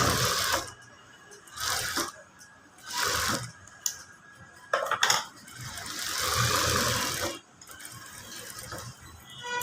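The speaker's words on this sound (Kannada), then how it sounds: "ಸುಮ್ಮನೆ ಒಂದು ಡಮ್ಮಿ ಸ್ಟಿಚ್ ಹಾಕಿದ್ದೀನಿ" A home sewing machine runs a dummy straight stitch on a blouse in several short bursts of whirring, separated by pauses and small mechanical clicks, close and moderately loud.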